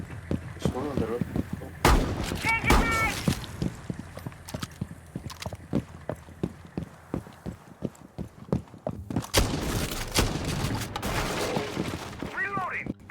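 Repeated sharp shotgun blasts in a video game firefight, loud and irregularly spaced across the whole stretch, with bursts of in-game voices and effects between shots.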